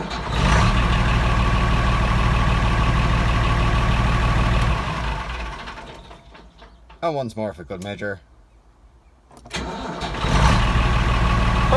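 A tractor engine cranks and fires on the first turn of the key after a starter motor repair, running loudly, then is shut off and restarted, with someone speaking briefly between runs.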